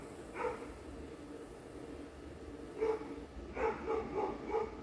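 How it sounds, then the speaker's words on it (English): A dog barks outside near a porch, a faint single bark early on followed by a quick run of three or four barks, all fairly distant against steady outdoor background. "the dog has to come outside right now and start barking"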